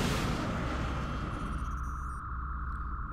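A Phoenix Cannon fires at a UFO during an interceptor engagement in XCOM: Enemy Unknown, opening with a loud, booming blast that settles into a steady droning rumble.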